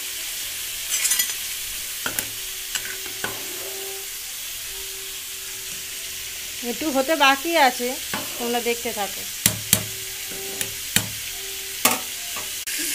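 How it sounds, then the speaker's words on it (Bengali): Potatoes sizzle and hiss steadily in a hot pan while a spatula clanks and scrapes in bursts; a voice speaks briefly over the frying. "আলুটা ভালো করে ভেজে নেব"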